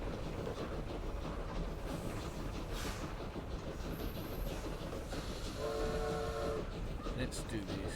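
A railway train effect in Victoria 3 rumbles and clatters steadily under faint game ambience, with a brief horn-like tonal blast near the end, moderately quiet and continuous.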